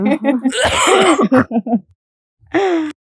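A man clears his throat and coughs loudly at close range during a holiday outing, with a harsh, strained vocal burst, a few short rough coughs, then a pause before one more throaty clearing.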